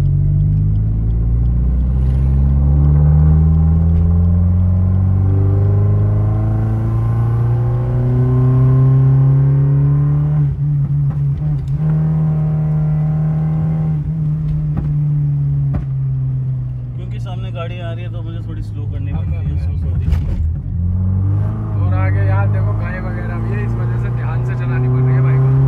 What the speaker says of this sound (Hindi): तो एक बार एग्जॉस्ट का साउंड सुना देते हैं जरा।